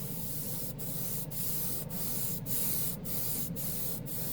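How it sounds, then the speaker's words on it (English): A GSI Creos Mr. Hobby airbrush with a 0.3 mm needle sprays Mr. Color ultra metallic paint in a steady close hiss, broken by seven short, evenly spaced pauses as the trigger is released, with no voices. "we're going to go ahead and use the GSI Krios Mr. Hobby Airbrush"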